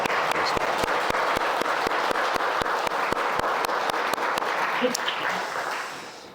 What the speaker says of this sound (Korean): 박수로 다시 한번